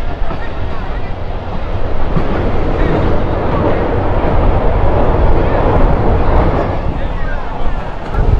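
The Mongla commuter train runs steadily and loudly, its broad rumble and rattling wheels continuous from close range with no break; a voice may be faintly present under the noise.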